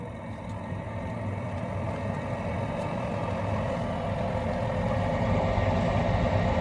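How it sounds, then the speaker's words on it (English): A furnace's induced draft fan motor starts up and holds a steady low whirring hum with a broadband rush, even and continuous throughout, fairly loud and close. "First, the induced draft fan motor will come on."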